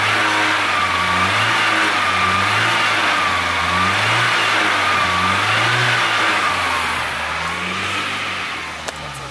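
An old barn-find car's engine running and revving, a steady mid-pitched drone rising and falling in repeated swells close by, easing off near the end.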